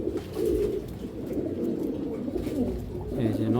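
A large male grizzle racer pigeon coos repeatedly up close in steady, throaty murmurs, with faint background noise around it.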